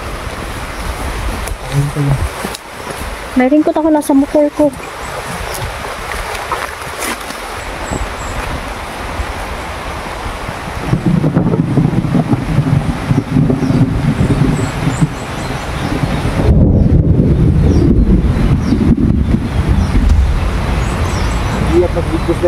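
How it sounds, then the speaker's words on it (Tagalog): Very heavy rain roars loudly outdoors, with a motorbike nearby and people sheltering under cover. The dense, broadband hiss grows stronger in the second half, and someone talks over it at the start. "Sobrang lakas ng ulan."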